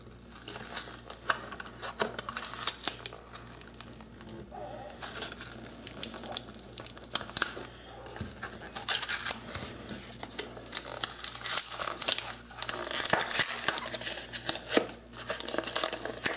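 Plastic wrap being peeled and unwrapped from a freshly demolded casting, close crinkling, tearing and rustling in irregular bursts over several seconds, with no talking.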